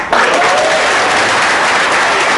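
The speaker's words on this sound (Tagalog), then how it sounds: "Salamat sa mga palakpak nyo." Audience applause at a large business marketing presentation, loud and continuous, a full wash of clapping starting almost at once and holding steady throughout.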